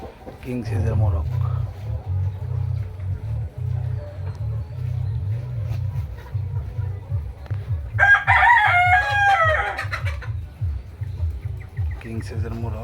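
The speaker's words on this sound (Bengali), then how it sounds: "এই দেখুন কিং সাইজের মোরগ।" A large king-size rooster on a chicken farm lets out one loud, ringing crow midway, above a constant low babble of clucking hens. Someone talks briefly.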